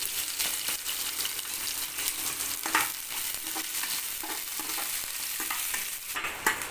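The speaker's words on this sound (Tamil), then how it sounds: "இப்போ வெங்காயத்தை போட்டு வதக்கலாம்." Onions and dried red chillies sautéing in a pan, a dense continuous sizzle with occasional stirring scrapes and a couple of brighter spatula knocks, close up and steady.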